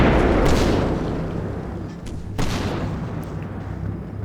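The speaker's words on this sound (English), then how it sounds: "we're shooting at the church" Gunfire and heavy explosions aimed at a church in the Combat Mission wargame, two loud booming blasts about two seconds apart with a rolling rumble decaying between them.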